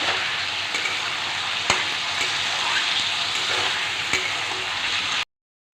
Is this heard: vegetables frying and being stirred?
yes